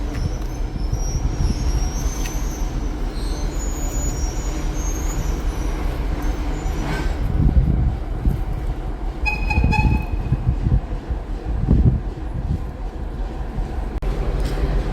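Busy railway station ambience with a steady rumble of trains and crowd noise, punctuated by a couple of short horn toots in the middle.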